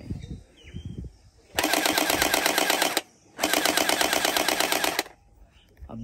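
A realistic plastic toy SCAR assault rifle fires two loud, sustained electronic bursts of rapid machine-gun rattle, each about one and a half seconds long with a short pause between, after brief faint background noise.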